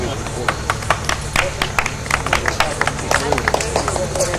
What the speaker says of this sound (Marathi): पुन्हा एकदा जोरदार टाळ्या अपेक्षित आहेत.